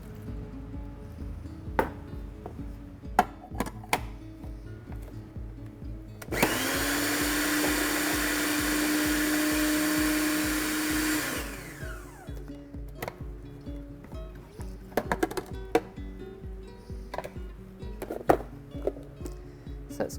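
A food processor blends jerk marinade with soy sauce, white wine vinegar and cinnamon in one loud, steady whir of about six seconds. Scattered kitchen clinks and taps come before and after it.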